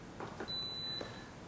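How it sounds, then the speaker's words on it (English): A Mattinata Teodoro cappuccino machine gives a single clear, high electronic beep about half a second long as it is plugged in, heard close over a faint background hum. "Now plug it in, and you're going to hear the machine beep."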